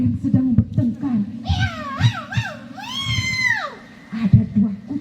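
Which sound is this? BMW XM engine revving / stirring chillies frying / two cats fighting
two cats fighting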